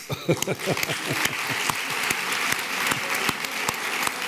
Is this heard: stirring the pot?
no